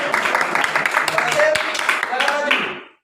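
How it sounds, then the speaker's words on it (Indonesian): Schoolchildren applauding a student in a classroom, brisk, uneven clapping that runs steadily, then cuts off abruptly, with voices mixed in. "Hasim, ya, tepuk tangan ya"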